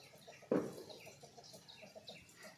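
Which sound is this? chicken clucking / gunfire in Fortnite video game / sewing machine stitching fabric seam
chicken clucking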